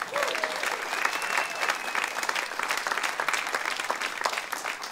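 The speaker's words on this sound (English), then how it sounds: "Give us a big round of applause to Greg" Steady audience applause fills a Celtic Connections on Campus concert hall, dense and continuous from start to finish, with a few voices and cheers mixed into the crowd noise.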